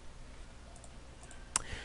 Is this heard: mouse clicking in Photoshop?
yes